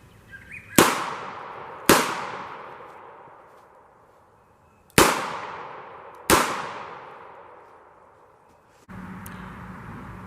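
Four sharp, loud gunshots from an S&W 642 revolver fired at a shooting range, arriving as two pairs of cracks, each with a ringing decay, and followed by a softer thump near the end.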